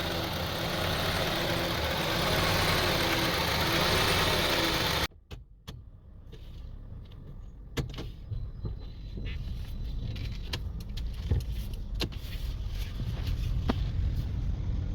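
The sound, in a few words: Honda CR-V engine idling roughly, misfiring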